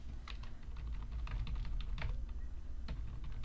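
Close-up computer keyboard typing, with irregular clicks and taps over a low hum from the desk setup, steady throughout.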